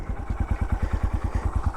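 A 2015 Honda Grom motorcycle fitted with a Yoshimura exhaust and aftermarket intake runs steadily nearby, its small single-cylinder engine giving a loud, fast, even thumping pulse throughout.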